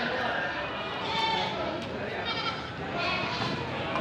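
Goats at a livestock market pen bleat repeatedly in overlapping calls, fairly close and loud, mixed with people talking nearby.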